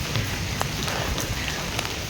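Rain falls steadily in a traditional village, a continuous broadband hiss with scattered drop patter and no voices.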